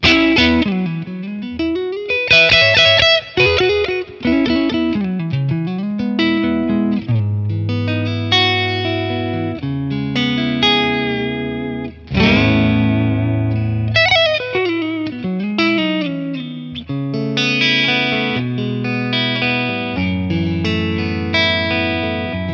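A clean electric guitar played through a Matchless Laurel Canyon amp model with reverb added rings out in chords and single-note runs, loud and close, with sustained notes fading into a reverb tail.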